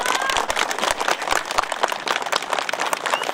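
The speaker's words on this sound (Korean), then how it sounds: "박수!" Audience applause at a Korean political rally speech, a dense continuous clapping crowd, loud and sustained throughout with sharp individual claps standing out.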